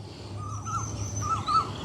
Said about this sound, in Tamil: முழுக்கவே குருவி சத்தம் தான் பின்னாலையா.